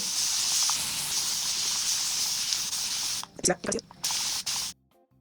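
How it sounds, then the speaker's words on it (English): Steady hissing of a spray bottle spraying water onto hair runs continuously for a few seconds, then breaks into several short bursts before stopping, close and fairly loud. "So first you spray it completely with water."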